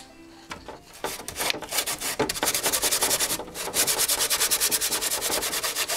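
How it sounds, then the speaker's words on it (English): Rhythmic back-and-forth sanding scrapes paint off a hard motorcycle part, starting with a few strokes, then settling into a fast, steady, fairly loud rasping pattern. "We're going to try to sand this."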